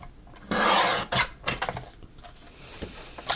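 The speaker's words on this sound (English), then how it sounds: "And then I'll trim a little bit off each edge." Paper craft piece having its dented edges trimmed, giving a sustained rasping scrape followed by several shorter rubbing strokes, close and fairly loud with no talk.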